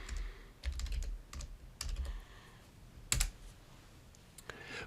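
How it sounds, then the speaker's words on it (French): A handful of quick keystrokes on a computer keyboard as a command is entered into Windows PowerShell, faint close clicks in short clusters separated by quiet gaps. "Maintenant, je vais taper ipconfig."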